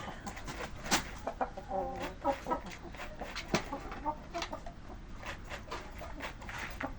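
A Burmese-type hen of a fighting chicken breed clucks repeatedly in a farm setting, short scattered calls over a steady outdoor background with pattering and rustling, fairly faint, with no talking.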